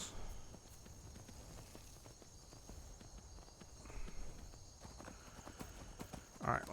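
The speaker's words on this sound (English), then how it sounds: "Let's get my horse." Horse hooves clip-clopping at a walk in a video game, faint and steady under a quiet background hum, with a brief louder sound near the end.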